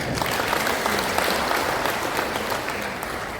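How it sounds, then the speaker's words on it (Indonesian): Audience applause at a Nyepi holiday speech, a steady dense wash of clapping that holds at an even level throughout, with no talking over it. "Tepuk tangan dulu kan"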